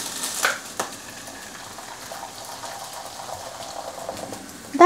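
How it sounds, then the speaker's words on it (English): Water boiling in a pot for ugali, a soft steady bubbling hiss throughout with a couple of brief clinks and a louder knock at the very end. "This just boiled"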